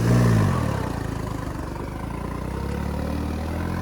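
A John Deere 5210 4x4 tractor fitted with a reaper runs in second gear, its engine a loud, steady, low diesel drone that swells slightly at the start.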